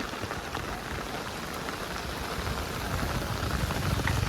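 Heavy rain pours down on a Konkan village in Sindhudurg during the monsoon, a dense, loud, continuous roar of drops on surfaces that swells slightly toward the end, with no speech.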